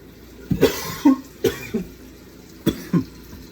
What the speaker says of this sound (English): I got this dry cough